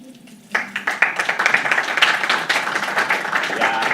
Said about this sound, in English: so that we give you a hearty clap